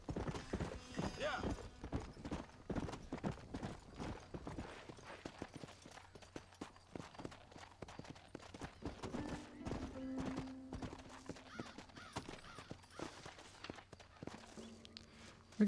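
Steady hoof clip-clops from a walking horse in the video game Red Dead Redemption, mixed with game music and someone talking over them throughout.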